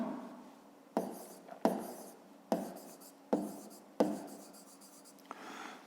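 Pen or pencil writing by hand in a school math exercise, five distinct bursts of scratching strokes, each starting sharply and fading, close and fairly clear, with no talk.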